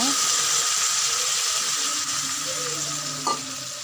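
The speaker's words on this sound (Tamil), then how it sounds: "இப்போ இதுக்கு தேவையான அளவு தண்ணி ஊற்றிக்கலாங்க" Crab masala made with country field crab sizzles loudly and steadily in a pan as water is poured in, the frying hiss dominating and close, with a brief clink near the end.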